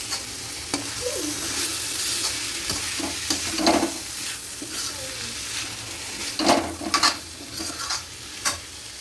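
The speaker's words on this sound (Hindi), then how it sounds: "तो मैंने यहाँ मसाले को अच्छे से भूना" Rajma masala fries in ghee in a pan with a constant soft sizzle, broken by scraping stirs and light clinks of a spoon against the pan.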